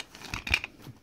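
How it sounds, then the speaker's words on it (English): Small children's scissors snip a few quick cuts up close, short crisp crunchy bursts with a slight papery crinkle, fairly quiet with no voices. "these little kid scissors"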